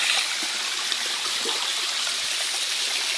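Water pouring at Antipolo Falls waterfall in Bagong Nayon, Antipolo, a steady broadband rushing hiss, fairly close and continuous with no voices.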